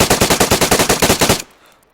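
An SG5-K submachine gun in the DayZ video game fires one loud full-auto burst of about fourteen rapid, evenly spaced shots, then cuts off into a short fading tail.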